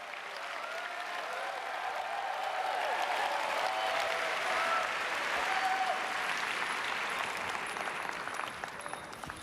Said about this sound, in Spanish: Demos un aplauso de bienvenida al Cohen Gadol,